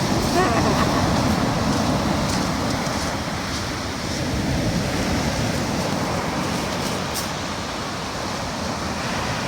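Sea waves breaking against the rocky shore at Positano, Italy, a continuous loud churning roar with wind buffeting the microphone throughout.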